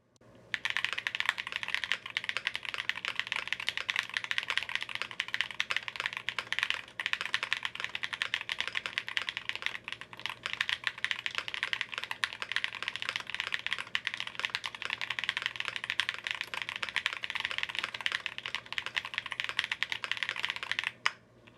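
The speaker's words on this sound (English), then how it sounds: "let's do another typing test." Rapid typing on a Pixelspace Capsule 65 mechanical keyboard with an FR4 plate and Durock POM keycaps, a steady stream of crisp clicks and clacks close up, continuing with only brief pauses.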